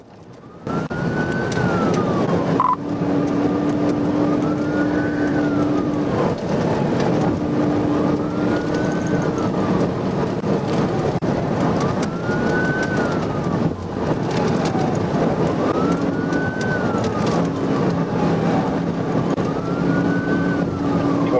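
A police car siren wails in a steady, repeating rise-and-fall cycle during a high-speed chase, loud and continuous over engine and road noise, with no talking.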